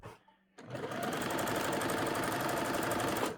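A sewing machine joins a gathered bodice to a skirt, running as one continuous, steady whir close up after a brief quiet start, with no talking.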